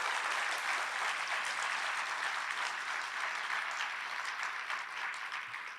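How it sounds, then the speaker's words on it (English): An audience at a scholarship awards celebration claps in a sustained, dense round of applause that fades slightly toward the end. "let's give all of them a tremendous round of applause"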